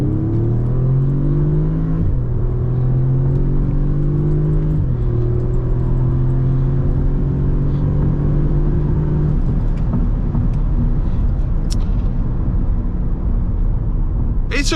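An Audi S3 accelerates hard at full throttle from the driver's seat, its engine droning loudly and climbing through gear changes while a constant heavy road and wind rumble runs underneath.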